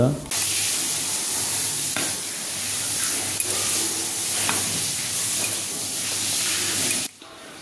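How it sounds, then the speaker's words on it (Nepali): Pork intestines boil in a pot over an open fire, giving a steady bubbling hiss and sizzle that runs continuously for several seconds before cutting off. "यसरी चाहिँ हामीले आगोमा मजाले बसाइसकेपछि 15-20 मिनेट मजाले उमाल्छौँ है"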